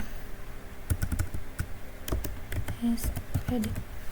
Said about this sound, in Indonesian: lalu kita ketik namanya, kita kasih koma, lalu kita tambahkan dengan gelar SPD